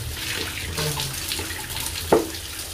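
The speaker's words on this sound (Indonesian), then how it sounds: "Biasa kan kalau cuci itu harus di air mengalir biar kumannya semuanya pada hilang" Running tap water pours steadily over vegetables and fruit being rinsed for a rujak salad, with a close, continuous hiss of flow and one brief louder splash near the end.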